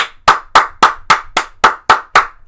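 Hand claps, nine sharp evenly spaced slaps in a steady rhythm, loud and close with nothing else beneath them.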